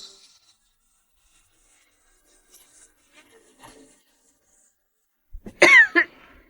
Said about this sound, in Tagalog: Kanina ka pa ubo ng ubo ah.